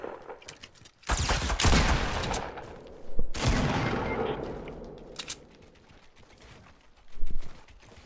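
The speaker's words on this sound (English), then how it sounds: "They're shooting shotgun." Rapid shotgun gunfire in a squad battle video game, loud and close, with a sustained burst of blasts starting around a second in, another sharp burst midway, and a final shot near the end.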